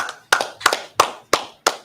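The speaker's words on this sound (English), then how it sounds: "Clap it up." Several sharp hand claps from a congregation at a Sabbath service in an even rhythm, each ringing out briefly before the next, loud and close with no voices.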